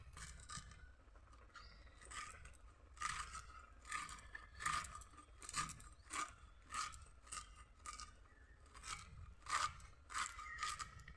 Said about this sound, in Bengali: এই দেখুন, এই যে একদম কুচি কুচি করে কেটে নিছি।